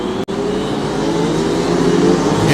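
Rotax Max racing karts on a circuit, direct-drive engines with two-speed gearboxes droning loudly and continuously as several run together, a sustained buzzing roar that builds slightly near the end.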